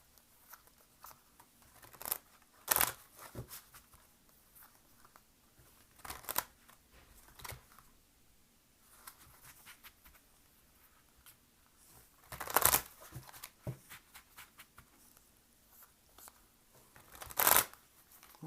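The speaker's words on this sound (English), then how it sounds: "now I'm going to go ahead and shuffle some general cards here" Tarot cards shuffled by hand during a reading, with repeated quiet riffling and sharp snapping bursts at irregular intervals over a long stretch, close and otherwise hushed, no voices.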